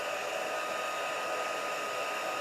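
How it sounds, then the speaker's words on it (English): An embossing heat tool blows steadily and close by, melting embossing powder on a blended alcohol ink project, with a constant airy hiss like a hair dryer and no talking. "we will emboss with my heat tool"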